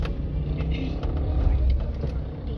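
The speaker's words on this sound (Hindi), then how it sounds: "गाड़ी निकल रही थी पार्किंग से" A car engine rumbles at close range as the vehicle pulls out of a parking space outside a restaurant. A low, uneven idle rises slightly, with a few clicks and shuffles around it and voices in the background.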